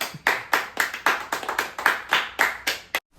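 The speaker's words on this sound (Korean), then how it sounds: "박수." A crowd at the opening of the 13th Bible Doctrine School camp in 2025 claps in rhythmic unison, roughly a dozen sharp beats in steady tempo that stop abruptly.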